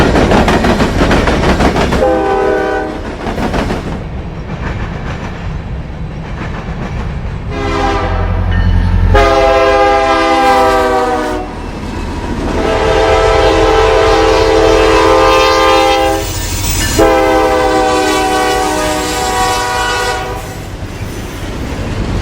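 A Norfolk Southern freight train passes on the Dayton District in Ohio, sounding repeated loud horn blasts over a heavy rumble and clatter of railcars rolling by close.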